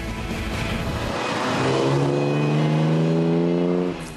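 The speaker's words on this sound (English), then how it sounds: "teasing a whopping 80 horsepower from the 328 six-cylinder standard engine" A vintage BMW 328 six-cylinder engine revs hard up close, a rough roar climbing into a sustained steady high tone before dropping off at the end.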